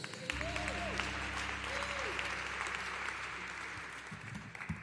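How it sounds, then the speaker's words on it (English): Audience applause at a gathering honoring a father and co-founder of a bank, steady clapping held at a moderate, fairly distant level with some faint voices and low hum beneath. "Let's give her a round of applause."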